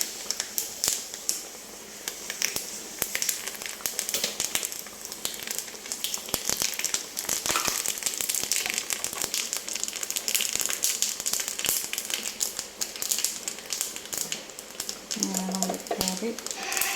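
Hot oil crackles and sizzles in a pan as curry tempering fries, a dense continuous popping spatter with sharp crackles throughout, under intermittent talk.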